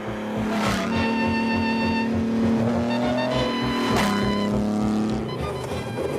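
A 1950s Maserati 250F Grand Prix racing car drives with a loud, close, continuous engine roar, its pitch rising and falling through gear changes and revs.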